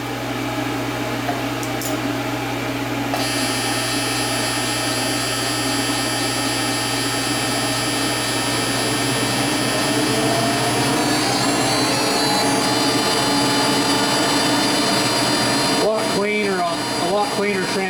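A PrimeWeld TIG welder runs an AC arc, a steady loud buzzing hum with a high whine that holds for most of the stretch and breaks up near the end. There is no talking over it.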